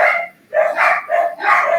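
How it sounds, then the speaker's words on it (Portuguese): Several dogs bark in quick repeated bursts, loud and close, with a brief pause early on and no talking. "Os seus cachorrinhos estão aí, né? Eles estão latindo muito agora aqui."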